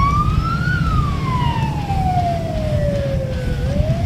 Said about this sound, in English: be sure to use your siren